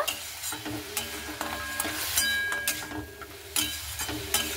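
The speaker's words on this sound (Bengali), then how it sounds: "এবার বড়িটাকে দিয়ে একটু ভালো মতো করে নাড়াচাড়া করে নেব।" Spinach and lentil dumplings sizzling in a hot pan while a spatula stirs and scrapes, with occasional metallic clinks against the pan.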